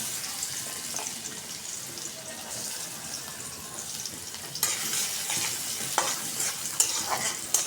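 Radish greens frying in plenty of oil with garlic and onion, a soft low sizzle that grows louder midway, with occasional stirring scrapes and clatter close by.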